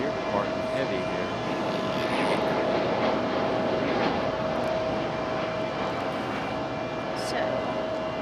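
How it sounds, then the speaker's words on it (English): A Frontier airliner departs Raleigh-Durham International with a sustained, even engine roar, and a voice talks over it. "And then Frontier departing heavy here."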